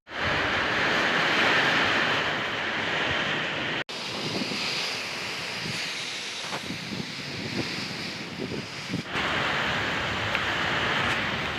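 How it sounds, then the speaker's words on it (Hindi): Heavy rain pours down in a loud, unbroken wash of hiss with a few brief dropouts, with no voices over it. "आज काफ़ी तेज बारिश हो रही है"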